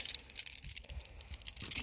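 A set of keys jingles and rattles close by in short bright bursts, shaken and handled outdoors at a campsite while packing up, with no talk.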